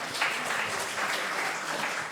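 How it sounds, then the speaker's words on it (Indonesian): An audience applauds for the idol group Koisekai at a live talk event, a continuous wash of clapping from a crowd that holds steady for a couple of seconds. "tepuk tangan untuk Koisekai. Tepuk tangan."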